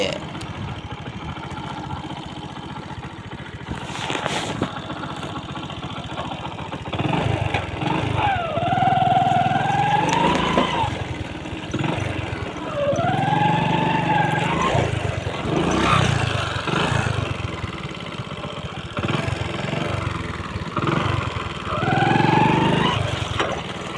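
A motorcycle stuck in a roadside pit revs repeatedly as it is worked free, each rising whine of the engine surging over a rough idle, with scraping and brief voices in between.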